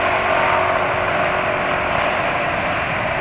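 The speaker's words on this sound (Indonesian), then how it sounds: "motor listrik yang lewat jalan yang sama dengan yang penulis lewati itu" An electric motorbike passes on the road, giving off a steady, droning motor whine with a faint tonal hum over continuous road noise, close and fairly loud throughout.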